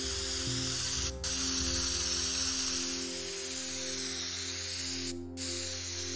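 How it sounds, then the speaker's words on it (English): A spray can hisses continuously while painting in the game Teardown, a loud, steady broadband spray under a low mechanical hum, cutting out briefly twice in the stretch, with no talking. "Wait, can't I spray paint stuff?"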